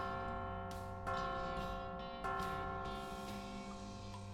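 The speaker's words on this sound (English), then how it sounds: "Yeah, it's a pretty good bell." A bell in the video game West of Loathing rings with clear tones. Two distinct strikes land a little over a second apart, and each leaves a steady, resonant hum that hangs between them.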